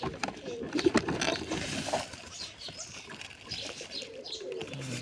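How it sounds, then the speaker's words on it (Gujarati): A pigeon sitting on eggs gives soft low coos close by, mixed with rustling, shuffling and faint chirps from other birds nearby. "આ કબૂતર ઈંડા લઈને બેઠો છે"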